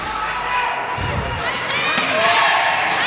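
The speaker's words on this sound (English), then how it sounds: "crowd is lighting up." Spectators at a 2009 world weightlifting championship cheer and shout continuously in an arena, a dense, steady crowd roar that builds slightly, with a commentator's voice mixed in.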